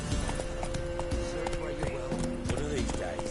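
Geralt's horse Roach from the video game Witcher 3 clip-clops steadily at a brisk gait, hooves rhythmic and close against a constant game backdrop, with someone talking over it.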